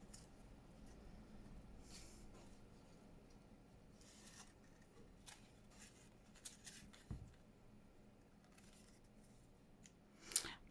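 Scissors trimming ribbon while decorating paper ephemera, a few quiet close snips scattered among soft rustling, with one sharper cut near the end.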